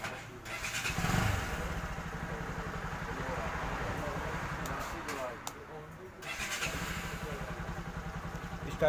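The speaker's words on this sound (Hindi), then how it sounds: "सबसे पहले करते हैं NS200 को स्टार्ट।" A Bajaj Pulsar NS200 motorcycle engine, after a timing chain change, starts with a brief crank and settles into a steady low idle, with a voice talking over it.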